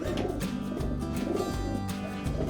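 Pigeon cooing from a yearling racing hen of the Antoni Mes line, low rolling coos repeating steadily amid dense loft bird noise, close and continuous.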